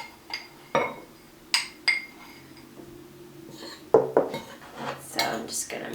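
Powder of cornstarch dry shampoo being mixed in a bowl, heard as scattered clinks and scrapes of a utensil against the dish, several sharp taps with quieter scraping in between, close and fairly loud.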